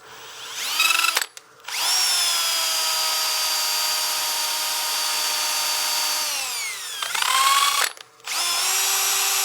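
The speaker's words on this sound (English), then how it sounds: "I don't want to sand that bead with the drill, so I'm just sanding the flat areas." A power drill whirs steadily while sanding the flat areas of a wooden cake stand, briefly stopping and restarting twice. The loud, high whine is close by.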